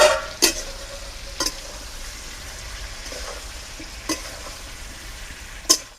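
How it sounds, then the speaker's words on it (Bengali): Potatoes, papaya, lafa greens and carrot fry with a steady sizzle in a pan for village-style shukto, with a few sharp scrapes and clanks as the vegetables are stirred. "আলু, পেঁপে, লাফা সবই প্রায় আমার ভাজা হয়ে গেছে"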